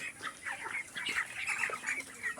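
A flock of poultry on a farm of about 3000 birds clucks and chirps continuously, many overlapping calls close by, moderately faint with no talk.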